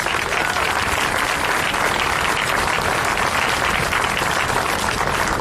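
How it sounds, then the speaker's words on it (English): Sustained, dense audience applause at an evening commemorative march event marking the 106th anniversary of the Armenian Genocide, loud and steady throughout without pause. "They absolutely deserve a round of applause."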